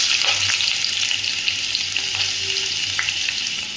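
Onions with cloves, cinnamon, cardamom, bay leaf and green chillies frying in hot oil for potato kurma, a loud, dense, continuous sizzle with faint stirring clicks.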